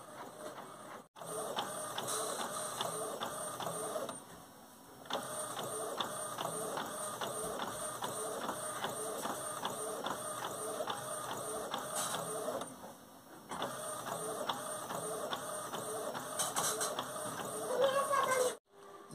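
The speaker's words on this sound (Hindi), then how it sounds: "ये देखिए हम लोगों का प्रिंट निकलना स्टार्ट हो चुका है, जो कि सब्लिमेशन पेपर पे सब्लिमेशन इंक की सहायता से प्रिंट हम लोगों का निकल रहा है।" Printer running with sublimation ink on sublimation paper, repeated mechanical passes of carriage whirring and clicking with brief pauses between runs, close and steady, ending in a louder burst.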